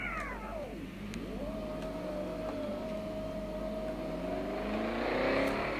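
Engine of a car accelerating in a Roblox racing game: a steady, rising tonal whine that sweeps down then climbs and holds, loud and continuous over a constant hum, with no talking.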